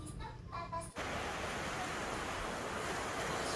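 Ocean surf at Holtekamp beach in Jayapura, Papua, a broad continuous wash of waves that follows a short stretch of faint voices and tones, then rolls on steadily and fairly loud.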